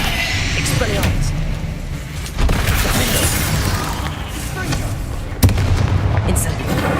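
Expelliarmus spell cast in Hogwarts Legacy on PS5, a loud continuous rumbling blast with a sharp crack near the end, sustained game combat noise throughout.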